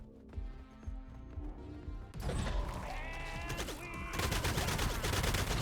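Rapid gunfire in the roguelite game Kiborg, starting as sparse mechanical shots and swelling into a dense, relentless barrage of overlapping bursts that grows louder toward the end.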